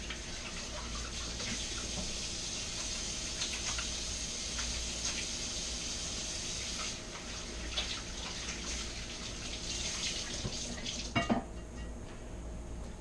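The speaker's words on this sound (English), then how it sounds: "So, gotta wash my hands." Hands being washed under a running kitchen tap while cooking Cornish game hens, a steady broadband rush of water lasting throughout with a few brief splashes and clatters near the end.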